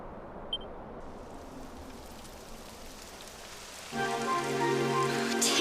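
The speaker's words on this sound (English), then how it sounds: "It would have to go and start raining, wouldn't it?" Steady rain hisses down in the video game Dragon Quest XI, a soft, even wash of noise, with a brighter tonal layer of music or ambience joining in for the last couple of seconds.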